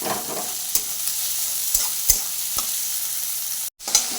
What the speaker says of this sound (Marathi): मी कांदा टाकते छान असा ब्राऊन कलर येईपर्यंत मस्त असा परतून घेऊयात